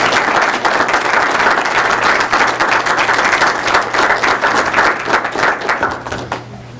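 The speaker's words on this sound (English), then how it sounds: "Let's give him a great big round of applause." Audience applause at a village board meeting in Lynwood, Illinois: dense, steady clapping from a room full of people that continues strongly and thins slightly toward the end.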